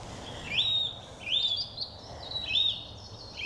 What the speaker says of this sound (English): It's a little dunnock